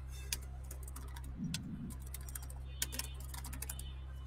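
Sparse keystrokes on a computer keyboard while entering text in Canva, a few quiet, irregular clicks over a steady low electrical hum, with a brief muffled sound partway through.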